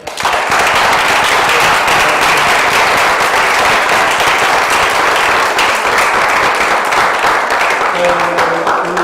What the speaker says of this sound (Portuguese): Eu vou pedir uma salva de palmas para esse projeto